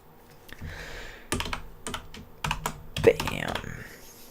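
Keys on a computer keyboard are typed in short irregular bursts while a name is entered, with close, crisp clicks and a speaking voice faintly underneath.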